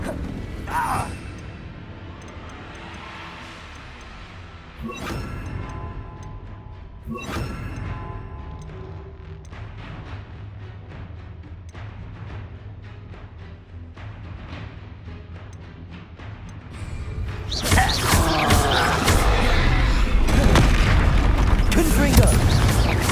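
Bombarda blasting spell explosions in Hogwarts Legacy on PS5: several sharp booming blasts with crashing debris, the heaviest and densest burst near the end, set against game ambience and mechanical rumble.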